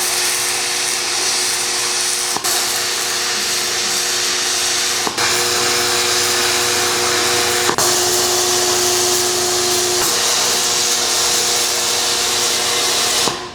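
Stitch welding on a handmade excavator attachment in a fabrication shop, a steady crackling buzz broken by a few short pauses between welds, close and loud, with no talking.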